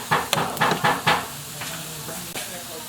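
Chopped onions tossed into a hot pan over browned garlic give several quick hissing bursts and stirring scrapes early on, then ease to a softer, steady sizzle with faint murmuring under it.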